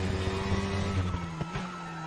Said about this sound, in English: Braking at around 50 for this right-hander as we go downhill.